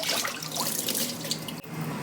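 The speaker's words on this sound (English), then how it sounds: "So in this bag I have 18 tomatoes, plum tomatoes. I'm just gonna go ahead and rinse." Plum tomatoes rinsed under a running kitchen tap, a steady close hiss of flowing water splashing over the fruit with no talking.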